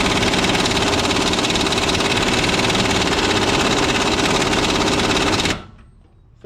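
A pneumatic air impact gun works on school bus steering parts, a dense continuous rattling hammer that runs loud and steady for over five seconds, then cuts off abruptly into near silence.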